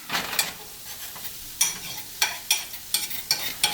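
Butter sizzles in a pan of college ramen while a utensil stirs it in, with repeated close scraping strokes over a soft frying hiss.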